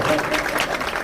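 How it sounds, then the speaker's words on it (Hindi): An audience claps together at a school art and craft event where certificates are handed out, a brief burst of dense applause with a voice speaking over it. "तो तालियां भी ऐसी ही होनी चाहिए ताकि के मोहब्बत हो"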